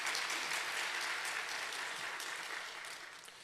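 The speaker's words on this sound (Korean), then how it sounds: "우리 하나님께 감사와 영광의 박수 한번 이 시간 올려드리면 좋겠습니다" A church congregation applauding during a Sunday worship service, a steady wash of many hands clapping at once that eases slightly toward the end, soft and somewhat distant.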